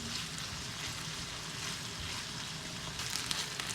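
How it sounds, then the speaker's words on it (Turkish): Onions sautéing in melted butter in a pan give a steady, close sizzle that holds evenly throughout, a little brighter toward the end. "Evet arkadaşlarım tereyağım eridi. Şimdi soğanları ilave ediyorum. Ve kavuruyorum."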